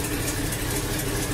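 An old American truck engine with a leaky exhaust and a mismatched muffler idles steadily, a close, continuous low rumble with no breaks.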